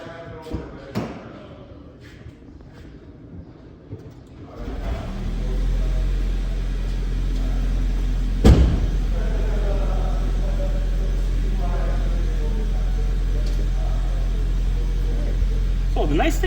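A 12-volt vehicle is switched on and its engine starts with a rising rumble, then settles into a steady low idle hum, with a single thump partway through.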